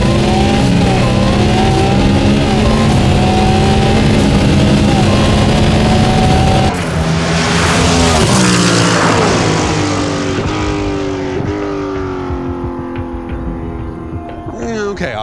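Cadillac Le Mans race car roaring past an 818-horsepower Ferrari 296, loud continuous engine howl with rising gear-by-gear revs and a shift in pitch as it blows by, no talking.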